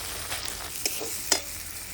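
A spatula stirs Bengali chitol fish kalia with chilli, turmeric and garam masala powders in a pan: a brief, soft sizzle broken by a couple of sharp scraping strokes, close and without speech.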